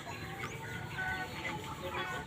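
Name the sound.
chickens clucking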